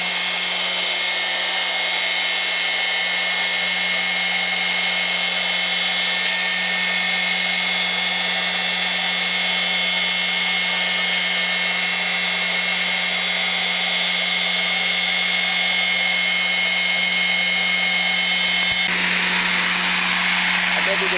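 A septic tank pumping hose draws suction, giving a loud, steady, unbroken roar with a constant low hum under it for about twenty seconds, near and alone.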